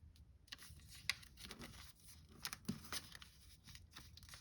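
Paper being creased and folded into a fighter jet shape, giving soft crinkles and a few sharp crisp snaps of the sheet, quiet and close with no talking.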